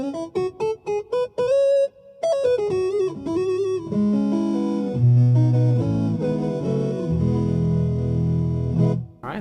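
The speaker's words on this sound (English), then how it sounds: "All right, that's a triangle wave" A BOSS SY-300 guitar synth playing a triangle wave, mellow tones that start as short plucked staccato notes, then swell into sustained, overlapping lower notes with a smooth synthetic quality, loud and alone.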